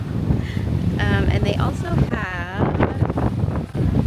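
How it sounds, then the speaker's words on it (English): Gusty wind buffeting the microphone with a steady low roar at a beach on CocoCay, while a person talks over it. "it's very windy"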